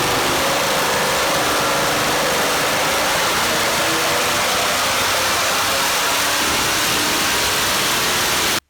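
A GM LS3 V8 fitted with a FAST intake manifold runs steadily at close range, a dense, continuous engine roar filling the whole span before cutting off abruptly at the very end.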